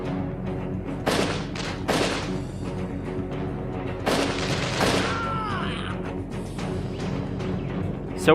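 Gunfire from the shooter game Chernobyl Underground, heavy booming shots at irregular intervals over a loud, dense background of game sound and music, with no speech.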